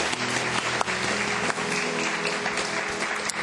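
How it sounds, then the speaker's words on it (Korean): Applause from a church congregation welcoming an elder after the representative prayer at a Sunday service, steady broadband clapping held evenly for several seconds with no voices over it. "일어나실 때 우리 큰 박수로 축복하고 환영하겠습니다"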